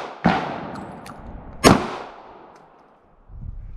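Two sharp, loud gunshots at an outdoor shooting range in Tennessee, spaced about a second and a half apart, each trailing off in a long echo, with a faint rustle at the end.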